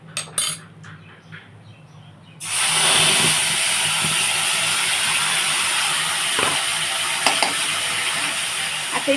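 Ginger, garlic, cumin and onion paste hits hot oil in a pan for a fish curry, bursting into a loud, steady hiss and sizzle after a few light clinks, sustained to the end with occasional utensil taps.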